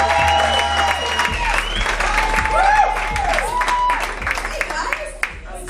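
Crowd applause and cheering for a stand-up comedian at a comedy show, clapping that thins out while a voice and musical tones sound over it.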